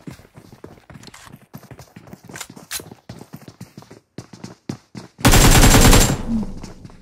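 Rapid automatic gunfire in PUBG Mobile, a dense loud burst near the end after scattered shots and footstep-like clatter, with excited talk around it.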